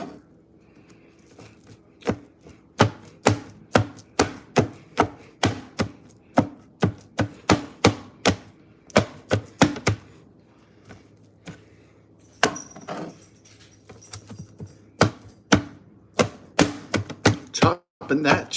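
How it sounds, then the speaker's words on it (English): A knife chops through chicken on a board in a long series of sharp, evenly spaced thwacks, loud and close, pausing briefly before resuming in another steady run. "chopping that chicken."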